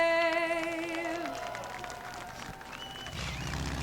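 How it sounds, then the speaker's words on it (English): A crowd at the New Smyrna race track breaks into applause and cheers as a sustained sung note ends. The broad clapping swells near the end under an open-air wash. "let's have a round of applause for Brian and Caitlin"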